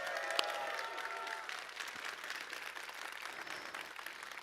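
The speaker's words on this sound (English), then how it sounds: "let's give him a big round of applause" Audience at a large E3 presentation breaks into applause for an introduced guest, a steady wash of many hands clapping at moderate distance, fading slightly toward the end, with some crowd murmur mixed in.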